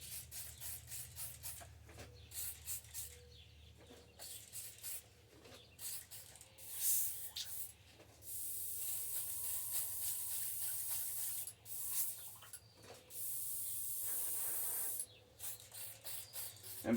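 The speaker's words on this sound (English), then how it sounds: "black's one of the hardest colors to clean out of your airbrush" An airbrush loaded with black paint is cleaned out after painting a thin crankbait lure, giving repeated bursts of sharp, airy hissing spray, some short and some held for a few seconds, with quiet gaps between.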